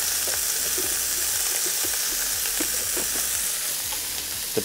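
Red onions fry in a pan with a steady, dense sizzle and hiss that stays constant and fairly loud throughout, with faint stirring scrapes underneath and no voices.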